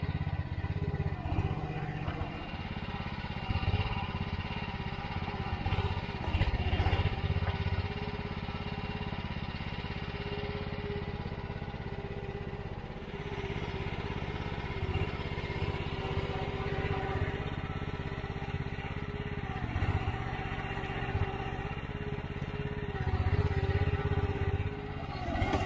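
A powerful engine runs steadily during construction of an access path to a millrace and dam, a loud continuous rumble with mechanical clatter that swells slightly at times throughout.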